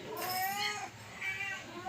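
A cat meows in a few drawn-out, wavering cries, close and fairly clear, with no talk over it. Low household noise runs underneath.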